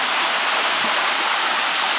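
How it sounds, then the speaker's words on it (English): Waterfall at Taman Negara, Malaysia, a loud, steady broadband rush of falling water heard close up, continuous and unbroken with no voices over it. "Waterfall."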